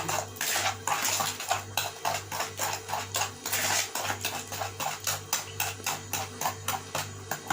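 A whisk beats oil into coffee cake batter in a bowl, fast regular strokes clicking against the sides in an even, repeating rhythm, close and fairly quiet with a low hum underneath.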